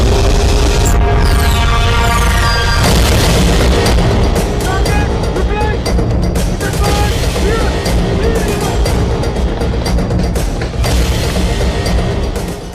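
Indian Army artillery guns firing on militant launch pads, a dense, continuous barrage of loud booms and blasts packed together with rumbling low end, heavy and sustained throughout.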